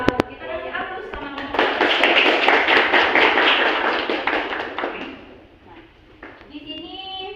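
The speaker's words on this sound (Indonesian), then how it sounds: "Kita kasih aplaus sama" Indoor audience at a school class presentation breaks into applause, a dense burst of many hands clapping that swells for several seconds and then fades, with a voice speaking at the start and end.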